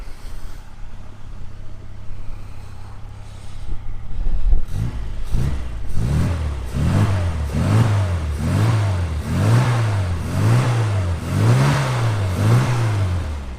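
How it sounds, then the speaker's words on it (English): A 1992 Rover Mini Cooper S replica engine idles, then is revved repeatedly in a steady rhythm, about eight rising-and-falling pulls, loud and close. "Let's give it a couple of revs."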